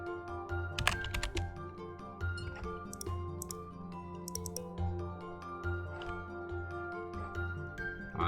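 A computer keyboard being typed on, scattered sharp key clicks in short bursts over a quiet tonal background hum, close and with no talking.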